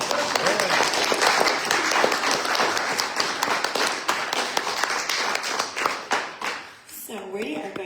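A church congregation at a worship service claps together in sustained, dense applause that thins into scattered claps and fades out near the end, with a voice rising briefly afterward.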